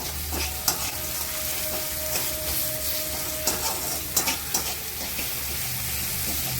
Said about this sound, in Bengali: এরপরে একটু লবণ দিয়ে দেবো, দিয়ে আর একটু নাড়াচাড়া করবো।